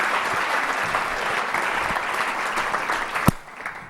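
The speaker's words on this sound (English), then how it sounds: "Folks, put your hands together for the very funny Brian K. Work." Audience applause for a comedian at a stand-up comedy TV taping, a dense, steady wash of clapping from a full room that holds loud throughout, with a sharp accent near the end before it thins out.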